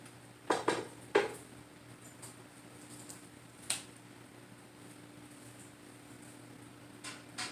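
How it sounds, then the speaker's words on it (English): Pieces of chicken and pork loin dropped into a canning pot, a few quick clattering thuds close together early on, then sparse softer knocks against the pot in a quiet room. "Now I'm going to put all these into the pot."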